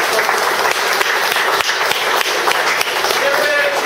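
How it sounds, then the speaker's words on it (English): A conference audience at a big data technology talk applauds continuously, a dense, close, steady wash of many hands clapping for a few seconds with no break. "I'd like to give a great big round of applause."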